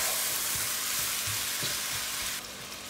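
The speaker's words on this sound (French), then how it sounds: "Je vais bien mélanger l'ensemble, puis laisser cuire 5 minutes." Chicken biryani being stirred in a large pot as it cooks, a loud steady close sizzle with soft scraping stir strokes beneath, no speech.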